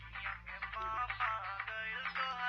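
A phone ringtone plays a bright, melodic electronic tune in short repeating phrases, fairly loud and continuous.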